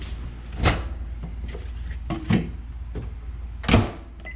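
A kitchen microwave door is shut and the oven started, giving three sharp clunks spaced apart over a low steady background hum.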